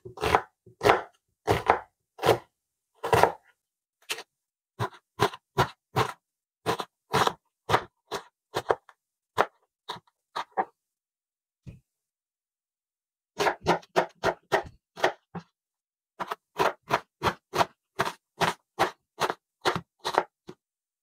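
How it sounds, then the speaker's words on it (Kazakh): A knife chops onions finely on a board in quick, sharp taps, running in bursts of rhythmic strokes separated by a few short pauses, close and clear with no talking. "Пиязымызды өзіміз білетіндей ұсақтап, көбіктеп турап аламыз"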